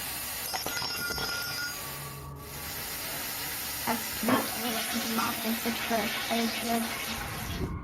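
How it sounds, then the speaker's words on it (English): A faucet runs at full blast into a sink. The rushing water is fairly faint and comes with clattering and rubbing noises, as if something is tossed in. "The faucet turns on full blast sometime later, while something flings into the sink."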